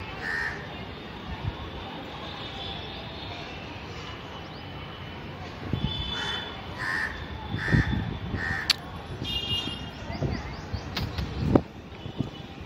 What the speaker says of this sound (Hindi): ये भाई साहब कौवे वाले भाई साहब तरबूज खा रहे हैं